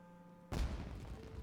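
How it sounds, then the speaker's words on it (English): Firework-style explosion from a character's ultimate ability in the video game Genshin Impact, one sudden loud burst after quiet humming, followed by crackling, rumbling decay. "It sounded like fireworks."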